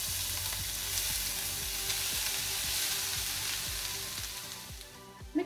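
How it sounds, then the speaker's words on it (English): Cashew nuts and raisins frying in ghee for carrot halwa, a steady close sizzle holding continuously with light stirring scrapes throughout and a small clink near the end. "Fry them for about 15 to 20 seconds and drop in the grated carrot."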